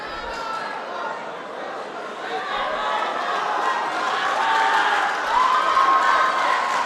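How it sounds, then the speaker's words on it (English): A high school basketball crowd cheering in a gym, loud dense roar of voices and shouts that swells steadily, with an announcer talking over it. "the crowd is up on their feet"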